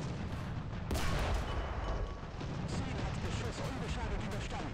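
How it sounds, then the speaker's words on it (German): The main gun of a T-70 tank fires in the War Thunder video game: a single sharp, loud blast cuts through dense, continuous battle noise, and someone talks over it. "Also, ich schieße offensichtlich."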